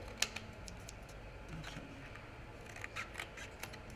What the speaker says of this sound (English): all I have to do is just cut across here